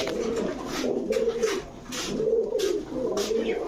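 Pigeons of Belgian bloodline coo steadily in a pigeon shop, with low, rolling coos repeating close by over a busy background of rustling and faint chatter.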